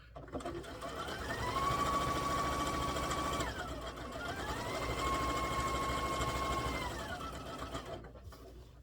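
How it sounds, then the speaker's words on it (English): A sewing machine stitches a quilted table topper in two sustained runs, each a steady whirring hum that ramps up, holds, then winds down, with a short pause between and no talk. "And then I'm going to sew till about a 1/2 inch till I get to the border."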